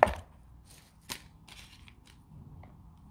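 Butter is cut into small cubes for a dates biscuit dough, a sharp knife tap against the board up front, then another clear chop about a second later, with a few faint softer cuts trailing after in a quiet kitchen.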